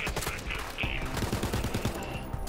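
Rapid sniper rifle fire in the shooter game Borderlands 3, several quick shots in succession over a busy game soundtrack and effects, with speech present.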